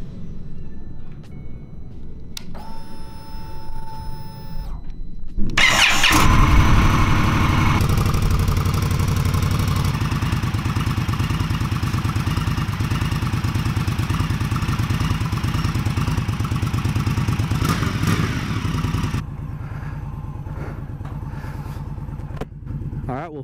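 A motorcycle engine starts up and runs loudly and steadily close by as the bike rides off, its rumble holding for most of the stretch before easing; a voice speaks briefly beforehand.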